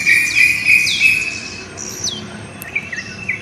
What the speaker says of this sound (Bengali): পাখির ডাক সহসা কিন্তু বিদেশে এরকম ডাক শোনা যায় না